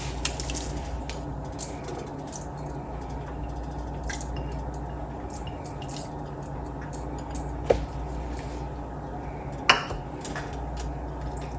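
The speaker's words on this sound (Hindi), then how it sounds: "मुसलसल चम्मच हिलाना है ताकि नीचे ना लगे।" A spoon stirs soaked sago in milk in a wok, giving soft steady scraping and gentle bubbling with occasional light metallic clinks of the spoon against the pan.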